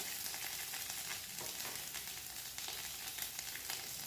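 Ginger, garlic and onion paste fries with whole cumin in oil for a jackfruit and prawn curry, a steady dense sizzle with light scraping from stirring, close and fairly quiet, no voices.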